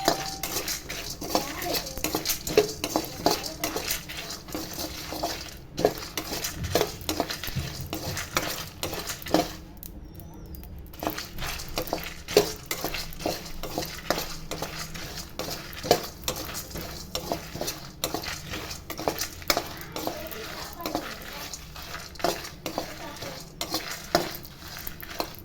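Dry red chillies, a piece of cinnamon and cloves roast in a pan, with a quick, busy run of metal spatula scrapes and clinks against the pan over a soft, continuous sizzle.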